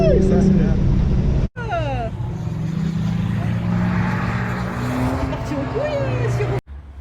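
A Volkswagen Scirocco TSI rated at 280 hp accelerates on a race circuit, its engine note rising through the gears as it passes nearby. Someone talks excitedly over the engine.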